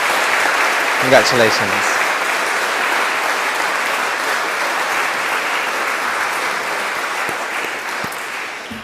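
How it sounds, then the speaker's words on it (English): An audience at the 2021 Australian of the Year Awards ceremony in Tasmania applauds award nominees with steady, sustained clapping that fills the hall, while a brief spoken congratulation sits over it near the start. "give them a well-deserved round of applause and some acknowledgement."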